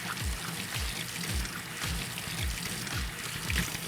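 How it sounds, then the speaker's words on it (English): Running water pours steadily from a kitchen tap while hands are rinsed beneath it, a continuous close splashing stream with faint rhythmic gurgles and no talking. "Rinse my hands."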